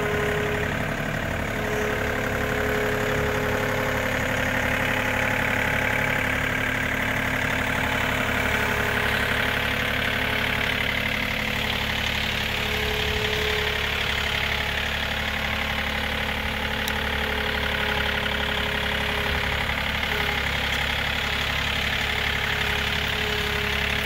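A tractor fitted with a 66-inch brush grapple idles steadily nearby, a constant rumbling engine drone with a slight knocking texture and no change throughout.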